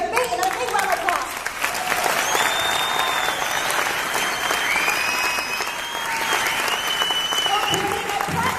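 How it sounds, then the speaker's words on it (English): Sustained applause from a large audience at a distributor company event, dense clapping filling the whole stretch at steady loudness, with a voice speaking over the crowd. "let's give a big round of applause"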